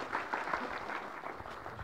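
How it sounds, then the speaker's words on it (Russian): An audience at a Russian open-source developers' conference claps after a talk, a brief steady burst of applause from a mid-sized crowd, close and dense, with no talk over it. "Аплодисменты."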